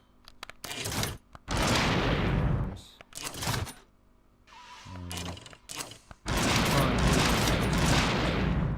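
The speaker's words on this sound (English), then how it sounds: "right now it fires incendiary, but I can fire 20 rounds" Incendiary rounds fire from a gun in the video game Paint-Fare, heard as loud, dense bursts of rapid shots in several separate volleys with short pauses between them.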